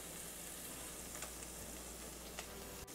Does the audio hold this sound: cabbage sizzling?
yes